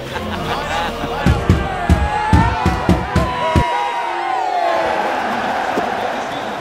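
A stadium crowd at an Atalanta versus Roma Serie A match in EA Sports FC 24 keeps up a steady roar and chanting, with rhythmic claps or drum hits early on. A commentator talks over it throughout.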